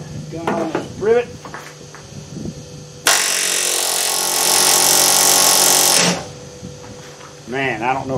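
A pneumatic rivet gun sets a rivet on a boat transom in one loud, sustained rattling burst of about three seconds, preceded and followed by nearby talk.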